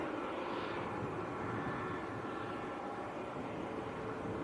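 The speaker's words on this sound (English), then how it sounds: "Ryanair from Lanzarote is on a half-mile final." A Ryanair jet arriving from Lanzarote roars in on final approach to Manchester Airport, a loud, broadband engine rumble and rushing air that holds steady and swells slightly as it passes, with no talking.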